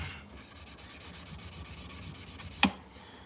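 600 grit sandpaper pulled in repeated rhythmic strokes, a soft, fine rubbing hiss close by, with one sharp brief scrape near the end.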